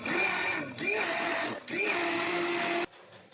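A kitchen blender whirs steadily while blending carrot, milk and vanilla ice cream into a drink. Its motor dips briefly twice, then cuts off near the end.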